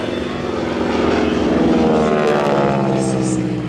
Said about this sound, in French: Un mini mini-cab aussi, d'avion monomoteur.